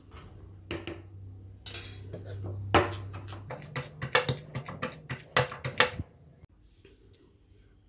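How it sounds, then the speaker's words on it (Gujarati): Roasted spiny gourd chutney is pounded and mixed, giving irregular knocks and scraping clatters that start sparse and then come in quicker bursts before a quiet end. "જેમ જેમ ખાંડતા જઈશું તેમ સાથે સાથે ચટણીને દરેક સાઈડમાંથી મિક્સ કરતા જઈશું."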